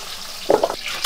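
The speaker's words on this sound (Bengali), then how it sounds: "এই তেলে একটু সবজিটা নেড়ে নেব, ভেজে নেব" Vegetables frying in oil while being stirred, a soft sizzle under a few quick scraping strokes, close and brief.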